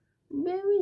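A pet cat gives a single drawn-out meow close by, rising and then holding steady for under a second before it fades.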